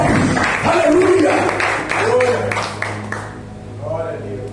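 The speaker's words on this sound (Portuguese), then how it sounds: "Você pode dar salva de palmas para o Senhor?" Church congregation applauding, with a continuous wash of clapping under a loud preacher's voice speaking over it, fading lower toward the end.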